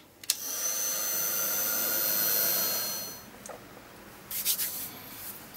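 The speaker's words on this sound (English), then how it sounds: "And then grab my heat gun, and then I'm going to give that a blast." A heat gun blows a steady, fairly quiet whooshing roar over paint on a card for about three seconds, then cuts off, leaving faint rustling and a few short handling clicks.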